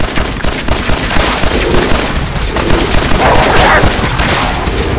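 Weapon fire in the modded game Fallout 4, a dense, loud burst of rapid gunshots like automatic fire filling the whole clip, with a voice faintly mixed in beneath the shooting.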